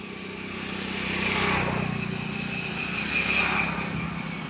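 A motorcycle engine runs near an old pontoon bridge over a river, its broadband drone swelling twice as it draws close, with no talk over it.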